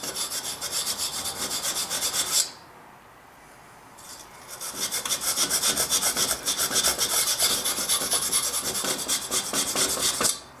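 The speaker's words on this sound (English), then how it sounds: "going to take a wire brush and kind of clean that out" Wire brush scrubbing rust out of a vintage Coleman lantern, a close, rapid rasping scrape in quick back-and-forth strokes, broken by a short pause before the scrubbing resumes.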